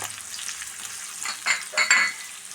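Onion and garlic frying in coconut oil give a steady broadband sizzle with bursts of crackle and stirring toward the end. No voices are heard.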